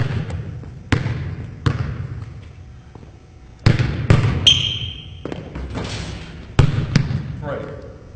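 A basketball dribbled on an indoor court during a youth skills drill: a handful of sharp, echoing bounces at irregular intervals, with voices in the background.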